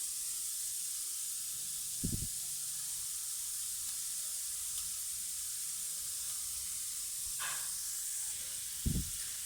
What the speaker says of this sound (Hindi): इसमें अब हम कोफ्ते डालने लगे हैं